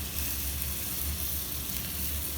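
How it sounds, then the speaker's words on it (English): Cashew paste frying with masala in a pan during cooking, a steady soft sizzle that holds evenly throughout with no talk. "you just fry it with the masala a little"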